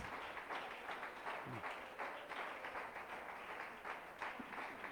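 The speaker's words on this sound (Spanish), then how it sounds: "Si le va a dar un aplauso a Jesús, dele un aplauso entonces como para Él" A church congregation at a Sunday service claps for Jesus, a fairly quiet, steady patter of many hands spread evenly across the whole stretch, sounding a little distant and without voices on top.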